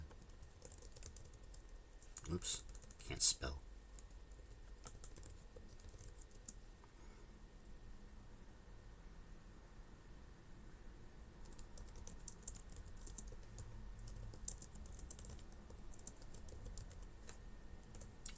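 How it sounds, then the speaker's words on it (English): Typing on a computer keyboard, faint rapid key clatter in scattered bursts across a long stretch, with a couple of louder knocks and a man muttering briefly early on. "Now you get to see me type."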